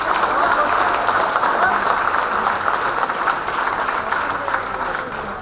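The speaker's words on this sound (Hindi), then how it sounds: "अपने लिए तुम लोग एक बार जोरदार ताली बजाओ" Students at a farewell gathering for an institute director clap loudly in a dense, sustained wash of applause that fills the room for several seconds, easing slightly toward the end.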